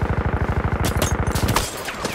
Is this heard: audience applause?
no